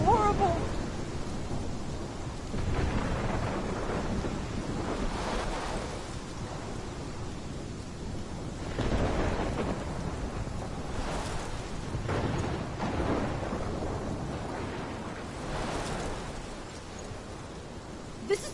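Storm in the video game Life is Strange, with roaring wind and rolling rumbles that swell and fade in broad waves, sustained and moderately loud.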